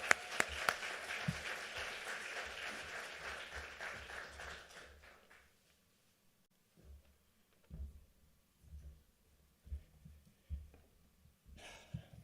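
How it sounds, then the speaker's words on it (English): A conference audience gives a faint, fairly distant round of applause for a speaker from the Denver Basic Income Project. The clapping fades out after about five seconds, followed by quiet room noise with small bumps and taps. "Give him a round of applause."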